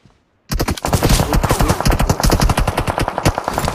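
Sustained automatic gunfire from a shooting video game, dense rapid bursts starting abruptly after a brief silence and continuing loud and close throughout.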